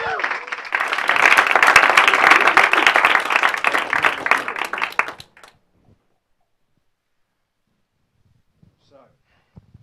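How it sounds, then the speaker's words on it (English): Audience applause at a conference session, loud dense clapping from a crowd for about five seconds before stopping abruptly, followed by near silence. "big round of applause here"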